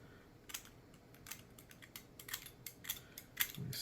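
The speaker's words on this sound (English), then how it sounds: "we're going to scrape, scrape, scrape" Short, quiet scraping strokes come one after another at close range while wire is prepared for a homemade 4:1 current balun, an antenna part, with no talking.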